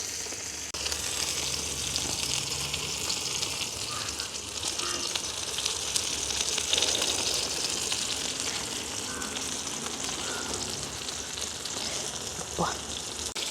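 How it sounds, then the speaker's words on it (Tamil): Pond fish frying in a little oil over a village cooking fire, a steady soft sizzle and crackle running continuously at low level with faint background noise. "இது வந்து கொஞ்சம் எண்ணெயிலேயே நாங்கள் அப்படியே பொரிச்சு விடலாம்."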